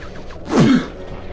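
A single sneeze, a short sharp burst with a breathy intake and vocal burst, close to the microphone against faint background noise.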